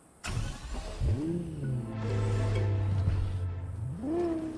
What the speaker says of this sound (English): Kind of sounds like a car.